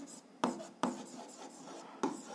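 Pen or chalk strokes while writing out an algebra solution, a few sharp taps and soft scratches close by, quiet and sparse with short pauses between marks.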